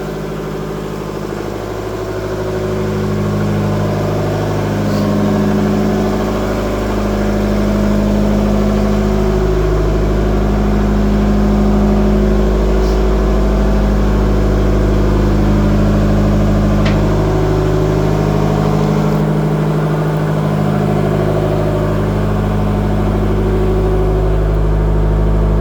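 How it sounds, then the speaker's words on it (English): Engine room machinery aboard the SS Explorer, with a Ruston locomotive engine and a DC generator running: a loud, steady low mechanical drone with rhythmic throbbing pulses, heard up close and continuously without speech. "So this is that DC generator that runs, just sneak past these pipes. There you go, another Ruston locomotive engine"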